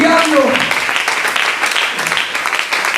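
A church congregation claps steadily and loudly through a Spanish-language worship service, a dense continuous wash of many hands with voices mixed in.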